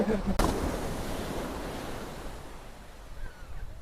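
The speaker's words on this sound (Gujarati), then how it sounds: "દરિયા આવી ગયા" Sea surf rolling onto the beach at Somnath, a steady broadband wash of waves with wind buffeting the microphone and a brief thump near the start.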